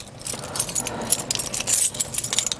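A ring of keys jingles and clinks loudly up close at a multifamily building, a few seconds of irregular metallic rattles in quick bursts.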